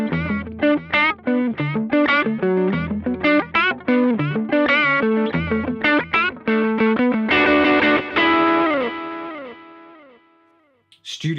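Guitar played through a Mooer Prime P1 pocket pedal with an echo effect, rapid distorted picked notes repeating in dense rhythmic bursts, then a final chord whose repeats trail off and fade before a brief pluck.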